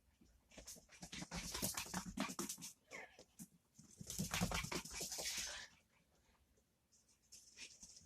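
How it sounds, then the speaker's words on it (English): Several dogs run around chasing each other, giving faint scuffling, panting and patter in uneven bursts with short quieter gaps, fairly distant and low in level. "And that's Phoebe, her running around chasing the other dogs."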